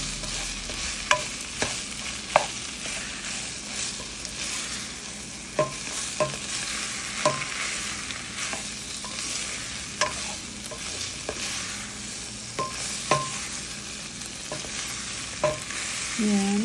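Prawns sauté for chop suey in a hot pan, a steady sizzle and frying hiss broken by frequent sharp clinks and scrapes of a utensil stirring against the pan.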